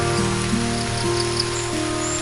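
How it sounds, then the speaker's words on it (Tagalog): Rain patters steadily on surfaces at a farm, an unbroken close hiss of drops with a faint low hum running through it. "So, ngayon ay pumapatak na ang ulan."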